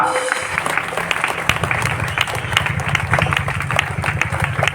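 A parish youth seminar crowd gives loud, sustained applause, many hands clapping densely and evenly, with faint voices mixed beneath the clapping.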